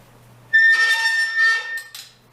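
A quick pass of sandpaper against a spinning wood-turned coral bowl on a lathe makes a close, high, whistling squeal with ringing overtones, lasting about a second and a half over a low steady hum before cutting off.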